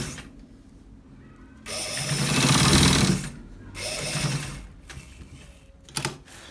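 A sewing machine stitches a V-neck on a men's kaftan dress in bursts: a long loud run of whirring stitches, a pause, then a shorter run and a brief final spurt, close up with no talk.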